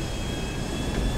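Steady drone of an airplane engine in flight in the video game GTA 5 Online, a continuous broadband roar with a thin whine on top, loud and even throughout with no talking.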